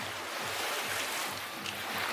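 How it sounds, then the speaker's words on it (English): Ocean surf washes steadily onto the beach at a Moalboal dive resort, a continuous broadband wash with gentle swells and some wind, fairly close and unbroken, with no voices. "I'm sure you can hear those waves lapping up on the shore"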